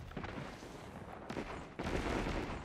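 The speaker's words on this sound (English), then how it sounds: "Review a gun when everyone else is spamming nades." Grenades go off in Destiny 2, giving a rumbling mix of muffled booms and crackling blasts. Loud bursts come near the start, around a second and a quarter in, and again from just under two seconds, with no voices.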